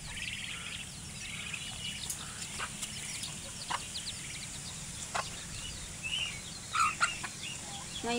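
Ducks and other fowl on a small farm, giving scattered short clucks and quacking calls over a steady low outdoor hum, a louder cluster of calls near the end.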